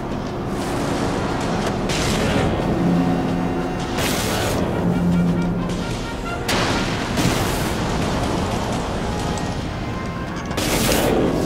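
Heavy warship cannons and weapon systems in the naval combat game Dreadnought fire in repeated loud booming volleys, with sharp broadband blasts recurring every few seconds over a dense, continuous rumble of battle noise.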